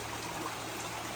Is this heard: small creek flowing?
yes